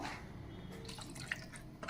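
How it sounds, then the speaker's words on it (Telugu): Water is poured into a metal bowl of mixed masala while a curry-leaf chicken curry is being cooked, giving a quiet, close trickle with a few light drips and no talk. "ఆ గిన్నెలో కూడా నీళ్ళు పోసుకుంటున్నాను"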